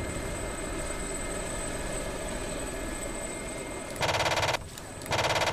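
A steady helicopter engine drone hums for several seconds in the DCS SA342 Gazelle flight simulator, then its 20mm cannon bursts into fire twice, loud rattling volleys separated by a short pause.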